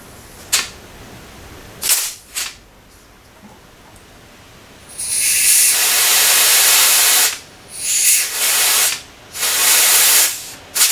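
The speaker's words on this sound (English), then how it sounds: "I'm going to go get my soft tip air nozzle, and we're going to go ahead and energize her." Compressed air blasts from a soft tip air nozzle in loud, close hissing bursts: a few short puffs, then a sustained blow of about two seconds, followed by several more medium-length blasts.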